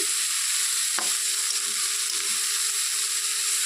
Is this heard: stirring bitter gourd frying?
yes